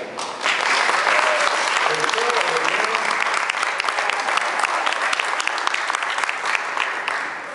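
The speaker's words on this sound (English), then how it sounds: "I'd like to ask for your applause for Bill and Ann McKenna" Audience at a Dynamite Dad ceremony applauding Bill and Ann McKenna, with dense, sustained clapping from a large indoor crowd that starts abruptly and holds steady, loud throughout, with some voices mixed in.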